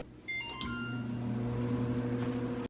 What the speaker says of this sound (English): Now for the chocolate sauce, I'm going to put this in the microwave.